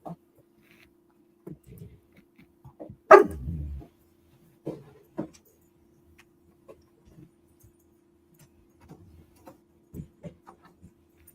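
A dog barks once, loud and close, then gives a few softer, scattered yips and snuffles in an otherwise quiet indoor room.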